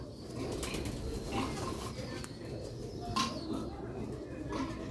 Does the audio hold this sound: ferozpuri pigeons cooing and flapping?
yes